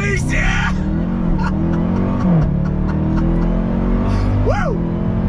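A 2021 Dodge Durango Hellcat SUV pulls away in a launch control start, its loud engine droning steadily throughout. Pitch swoops rise and fall as it shifts and revs. Voices are heard inside the cabin over the engine.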